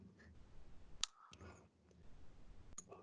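A computer mouse button clicks sharply twice, the two clicks about two seconds apart, during a business software demonstration, each one close and crisp over a faint room hiss.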